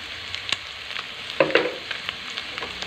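Bitter gourd and small prawns fry with turmeric and chili powder in a pan, a steady close sizzle with a few sharp stirring scrapes and clicks, no talking.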